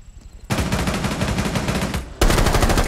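Automatic gunfire in Rainbow Six Siege, a dense rapid burst of loud close shots running for over a second, a short gap, then a second sustained burst.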